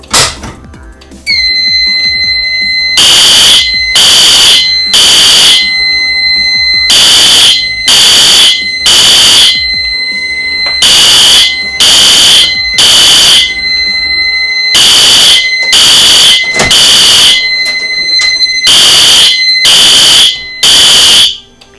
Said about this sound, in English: that set off all the fire alarms